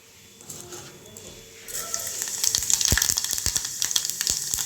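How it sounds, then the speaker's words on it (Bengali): Panch phoron spices hit hot oil in a silver bowl over a gas flame, crackling and spitting sharply after a quieter start, with rapid popping bursts over a dense sizzle. "তেলটা গরম হয়ে গেছে, এবার দেবো 5 ফোড়ন"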